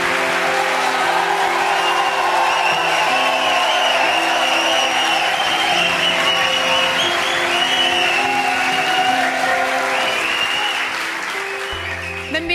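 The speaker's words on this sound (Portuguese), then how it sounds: "Un aplauso para Joao" A television studio audience on a Galician afternoon talk show applauds as a guest named Joao arrives. The clapping is loud and sustained, with a few whoops, and carries on for about eleven seconds before tapering off.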